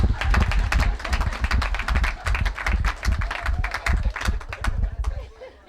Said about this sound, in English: Insert clap here.